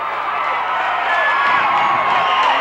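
A basketball crowd in a gym roars and cheers steadily at the final buzzer of a 1990 substate high school game, a loud, sustained wall of shouting and whooping with scattered clapping.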